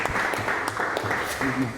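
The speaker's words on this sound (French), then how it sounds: "On peut applaudir les réactions des uns des autres." Participants at an improvisation workshop applaud each other, a steady wash of clapping lasting under two seconds with a voice faintly mixed in.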